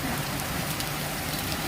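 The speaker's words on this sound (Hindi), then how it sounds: "ये देखिए बहुत बारिश हो रहा है" Steady, dense rain pours down in a continuous hiss, heavy and close, with no voices.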